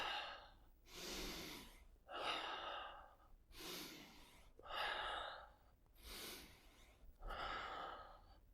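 Breathing in a bow breath exercise: a close, breathy rhythm of deep inhales and long exhales, roughly one every second or so, with brief pauses between them.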